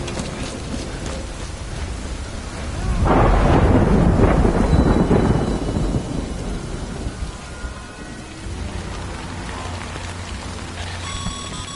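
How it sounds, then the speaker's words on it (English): Rain and thunder in the video game Death Stranding: steady rain patters throughout while a loud, rolling thunder rumble swells and fades in the middle, with no talking. "Good thing it's raining."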